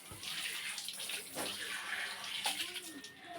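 Water runs and splashes while something is being washed under a tap, a steady close rushing with scattered sloshes and a brief faint voice in the background.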